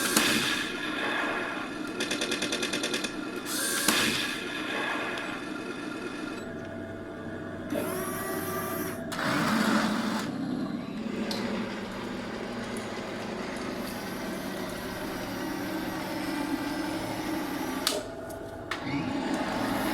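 An RC tank sound module plays a Leopard tank effect in bursts of mechanical rumble, rattling track clatter and sharp firing cracks, all at moderate level.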